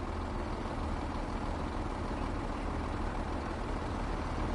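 A bus engine in the video game Train Sim World 4, on the Fife Circle route, gives a steady, close, low rumble that drones on without change.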